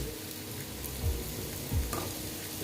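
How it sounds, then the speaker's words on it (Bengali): Sweet pumpkin pieces frying in a pan for a vegetarian drumstick dish, a steady close sizzle with a couple of soft stirring knocks. "দেখো অনেকটাই ভাজা হয়ে গেছে এবার আমি দিয়ে দিচ্ছি মিষ্টি কুমড়োগুলো"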